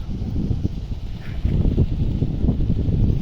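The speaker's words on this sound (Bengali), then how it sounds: "আর দেখেন কত বাতাস" Outdoor wind on a sunny afternoon batters the microphone with a low, rumbling buffet that keeps going throughout and grows stronger about halfway through, with no talking.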